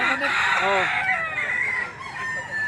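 Roosters crow and chickens cluck at a busy Saturday poultry market in Lipa City, Batangas, several birds calling close by in overlapping bursts with faint human chatter in the background.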